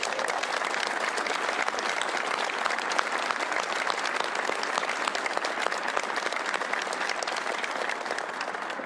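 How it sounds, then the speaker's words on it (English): A large crowd applauds at the rollout ceremony of NASA's X-59 QueSST supersonic plane, with steady, dense clapping that holds at an even level throughout, loud and continuous with no pause. "give them a round of applause"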